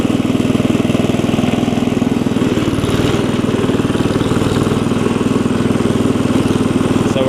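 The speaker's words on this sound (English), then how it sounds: "Well, we can get it to drive in 1st and 2nd," A classic Cub Cadet 70 garden tractor with a slipping clutch runs close by while driving in first and second gear, a loud, steady, rapid single-cylinder engine putter that holds even throughout.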